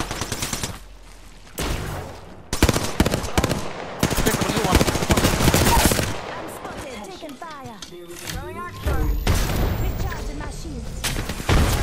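Gunfire in Apex Legends, with rapid automatic bursts and single shots that stop and start throughout, loud and close, mixed with other game effects while players talk over the action.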